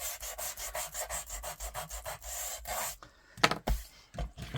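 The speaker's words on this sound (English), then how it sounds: "Give it a little sand." Rapid rhythmic rubbing strokes sand the rounded corner of a paper snippet, close and quiet, followed by a few scattered scraping and handling sounds.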